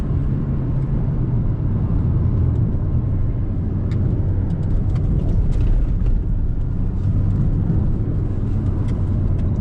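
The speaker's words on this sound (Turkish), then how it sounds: "Bastım dip gaz yaptım." A Renault Captur 1.3 TCe car accelerating hard at full throttle, heard from inside as a loud, steady engine and road rumble that holds throughout without any talk.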